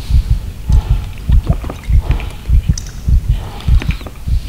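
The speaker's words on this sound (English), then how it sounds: "Right, we hear our heartbeat now," Heartbeat in the horror video game Call of Cthulhu: Dark Corners of the Earth, a loud, steady run of deep doubled thumps repeating about once a second with no talk over it.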